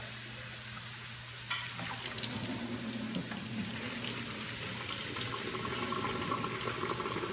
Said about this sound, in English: now that the pasta is done, we are going to strain it.